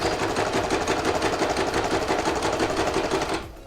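A sewing machine stitches fabric in a fast, even mechanical rhythm, loud and close, running steadily before slowing and stopping at the end.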